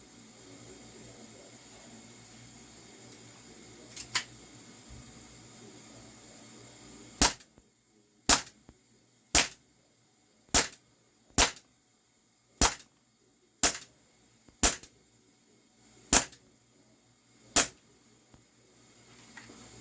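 Walther CP99 Compact BB pistol firing steel BBs: ten sharp, evenly spaced shots, each about a second apart, crack out over quiet outdoor background, with two fainter pops just before.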